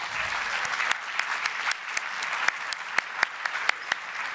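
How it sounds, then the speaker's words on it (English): A conference audience claps for a speaker being introduced, crisp individual claps building into light, scattered applause from a modest crowd, fairly close. "please give Paul a warm round of applause"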